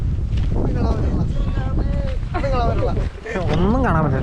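Strong wind at Vagamon buffeting the microphone with heavy low rumbling gusts, loud and constant while people talk over it.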